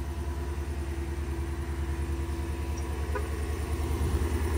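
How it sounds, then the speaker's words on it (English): A 2021 Chevrolet Tahoe Premier with quad-tip exhaust idling after a remote start, a steady low engine hum with a regular pulsing rhythm, close and continuous, no voices present. "This beautiful car has remote control start."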